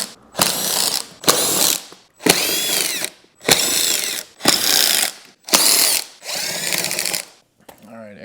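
A ratchet tool whirs and clicks in six or seven bursts of about a second each, with short gaps between them. It is backing out the airbox screws on a wrecked Honda sportbike. Close and loud, with the last burst trailing off into quiet.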